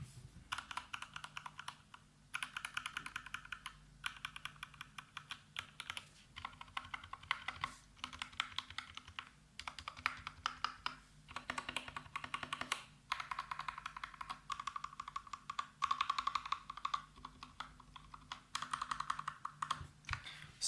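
Rapid typing on a mechanical keyboard fitted with red linear switches, a steady stream of close, crisp key clacks in quick bursts with brief pauses, heard alone without any talking.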